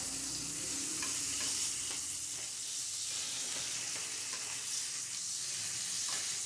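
Spinach goes into a pan of vegetables frying in oil for a vegetarian curry, giving a steady loud sizzle with scraping stirring strokes, close and continuous.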